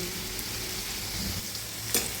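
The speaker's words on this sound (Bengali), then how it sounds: "এই করলাগুলো আমার ভাজা হয়ে গেল হালকা করে" Bitter gourd slices fry lightly in a pan with a soft, steady sizzle and one sharp spatter near the end, quiet and unbroken.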